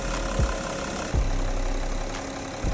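A car engine running on Mannol ceramic oil idles steadily with a low continuous hum and a few soft thumps, close and alone without talk.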